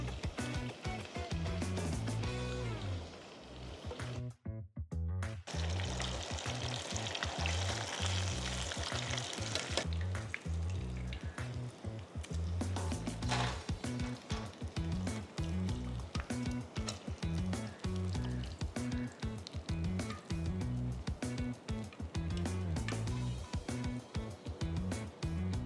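Coated Bombil fish deep-frying in hot oil, a loud, dense crackling sizzle that runs nearly the whole time, with one brief dip early on before the bubbling roar returns.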